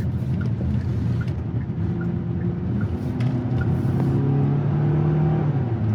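A 2026 Hyundai Tucson XRT with an 8-speed automatic, heard from inside while driving on the road: a steady, loud low engine drone and road rumble holding evenly throughout, and no talking.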